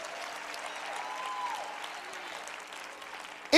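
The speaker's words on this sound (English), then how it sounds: "Come on, clap your hands." A church congregation claps hands together in sustained, steady applause that fills the room at an even level, ending with a sudden louder burst.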